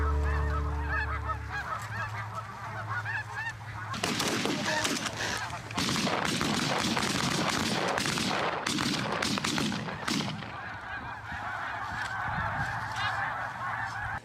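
A flock of snow geese honks noisily at a distance, with a burst of sharp gunshots cracking through the middle of the calling.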